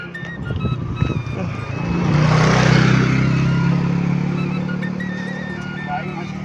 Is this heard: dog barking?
no